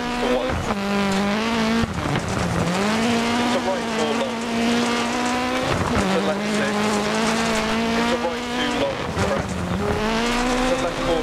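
Rally car engine in the Dirt Rally video game on a Wales stage, revving hard through the gears with rising pitch sweeps and brief tire skids, loud and continuous.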